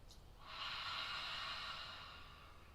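A long, breathy exhale as if fogging a bathroom mirror, a single soft airy huff lasting about two seconds, close and quiet, starting after a short intake.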